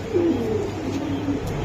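Black racer pigeons coo softly nearby, giving a low, rolling, drawn-out call over quiet background noise.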